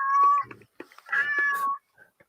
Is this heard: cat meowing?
yes